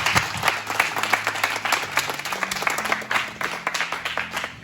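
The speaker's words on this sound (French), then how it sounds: "On acclame le Seigneur" A church congregation applauds in praise of the Lord, with sustained, dense clapping from many hands filling the room at a fairly close, lively level.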